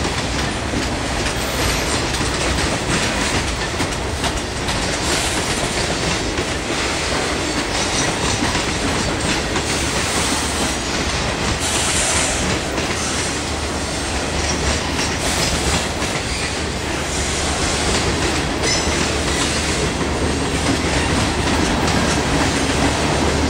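Eastbound CSX mixed freight cars, ending with a freezer car, roll steadily past close by, a continuous loud rumble with clattering wheels and rhythmic clacks over the rails, no voices.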